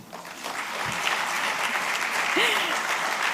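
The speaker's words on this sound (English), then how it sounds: "Applause, please." Audience applause at a women-in-business conference keynote in Kochi, steady and full across the hall, with a brief voice rising faintly above the clapping.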